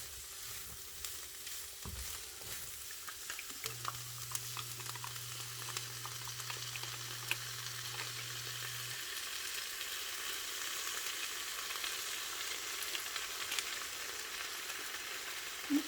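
Stir fry of tender marinated meat cooking in sesame seed oil, a continuous soft sizzle held at an even level with faint scattered crackles and a brief low hum partway through.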